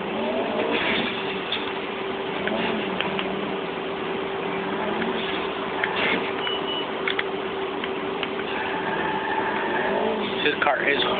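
A car engine drones steadily while driving in the video game GTA 4, a moderate continuous hum with occasional clunks and rises, under a voice talking.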